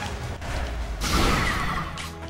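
A magical barrier is smashed open in the video game Fire Emblem Three Houses: a rumbling whoosh builds into a broad, loud crash at the midpoint, then trails off into a sustained roar.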